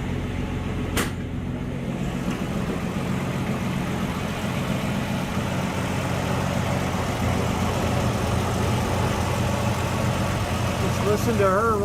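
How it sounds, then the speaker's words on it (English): 1967 Ford Mustang engine idling with the hood open, a steady low rumble running throughout at close range, with a couple of brief clanks and some faint background noise. "let's go ahead and pop the hood, take a look underneath, and listen to that engine burn"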